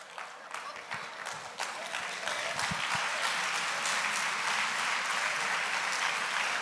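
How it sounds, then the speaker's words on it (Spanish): A church audience breaks into sustained applause, the clapping building and holding steady at a dense, roomy level, with a faint voice beneath at first. "Yo no sé por qué están aplaudiendo"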